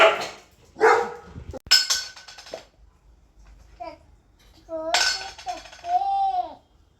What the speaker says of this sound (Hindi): ये भौंक रहा है